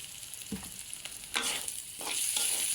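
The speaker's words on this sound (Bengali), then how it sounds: "এইভাবে নাড়াচাড়া দিব এই দেখুন মুসুরের ডালের কালারটা কিন্তু পাল্টে গেছে" Red lentils being stirred in a hot pan, soft scraping strokes over a steady low sizzle, with a few louder stirs standing out; close and moderately quiet, no voices.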